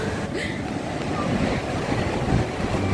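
Rushing water at Bulmuri falls near Mysore, filled to the brim, gives a steady, loud broadband roar throughout, with wind buffeting the microphone.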